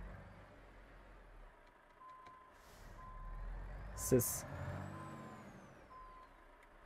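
Steady electronic backup beeps repeat from a semi-trailer truck reversing nearby, with engine rumble, a sharp air-brake hiss, and a brief spoken word.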